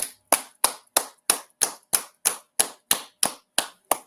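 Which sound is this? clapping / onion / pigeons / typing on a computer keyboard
clapping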